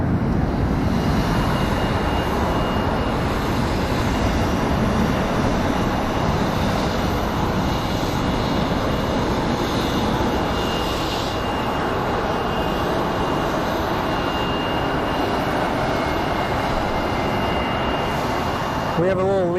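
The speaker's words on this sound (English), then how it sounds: "right now this 737 is headed to Santa Ana" A Boeing 737 jet airliner at Phoenix Sky Harbor airport makes a steady, loud engine roar that lasts throughout, a broad continuous rumble with a faint whine.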